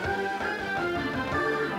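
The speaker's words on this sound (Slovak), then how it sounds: "Začneme džinglom." Short musical jingle from a Slovak comedy talk show, a steady tonal tune with sustained harmonic notes playing loud and alone for under two seconds.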